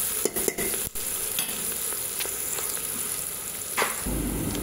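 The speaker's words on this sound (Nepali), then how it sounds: "र यसलाई चाहिँ म अब हल्का चलाइदिनु पर्यो" Homemade biryani in a pan, with onions and green chilies browning, is stirred steadily; a constant sizzle of frying runs throughout, broken by a few sharp scrapes and clinks of the spoon against the pan.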